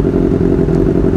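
A Kawasaki ZX25R motorcycle with an aftermarket exhaust revs loud and close, a rough, throaty exhaust rumble held steady through the short burst.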